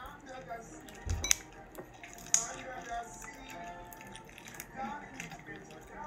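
Mermaid slime is worked by hand in quiet, soft squelches and sticky little clicks, with a couple of sharper taps and a voice talking faintly in the background.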